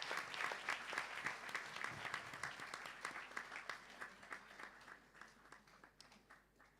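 Audience applause at a live event in London, a sustained round of clapping that starts full and gradually thins and fades toward the end.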